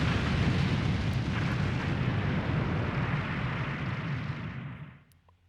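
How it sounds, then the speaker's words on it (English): In Suikogaiden Vol. 2, an explosion spreading from a chapel altar produces a loud, sustained, rumbling roar that holds for several seconds, then quickly fades to silence, with no voices present. "the destruction caused by the explosion that spread from the altar"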